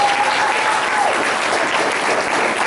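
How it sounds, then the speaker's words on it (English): A large crowd at a National Junior Honor Society induction ceremony gives inductees and current leaders a loud, continuous round of applause that fills the room. "Can we give one more round of applause for our inductees and our current leaders?"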